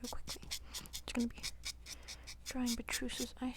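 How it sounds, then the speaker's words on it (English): A pen draws eyes onto a wig head with quick, close scratchy strokes in short bursts, soft and intimate, while a person talks quietly throughout. "I'm just gonna be drawing Beatrice's eyes"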